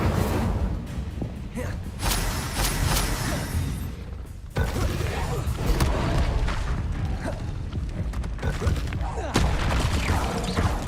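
Incendio fire spell cast repeatedly in the video game Hogwarts Legacy, with loud bursts, whooshes and booming impacts layered over dense battle sounds and music, a sharp break midway before the clashing resumes.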